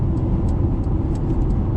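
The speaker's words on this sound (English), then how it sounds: "There is a bit of wind noise here, and tire noise" Loud, constant low road roar from tires and wind inside a moving Mercedes EQB on the motorway, with a few faint high clicks on top.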